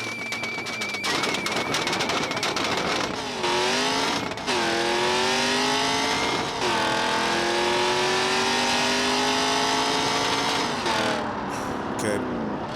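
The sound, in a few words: car engine rev bombing in BeamNG drag racing video game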